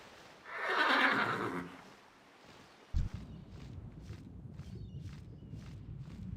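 A horse in World of Warcraft lets out one loud whinny near the start, followed by a brief thud and then steady hoof footsteps plodding nearby.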